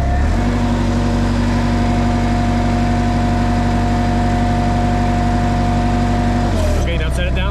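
A forklift engine runs loud and close with a steady throttled drone and a sustained hum, then drops in pitch near the end as the throttle eases.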